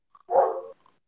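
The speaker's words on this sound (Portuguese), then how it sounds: "Gente, os cachorros aqui, tem isso também, né?" A single dog bark sounds once, short and moderately near, against otherwise near silence during a Brazilian online talk.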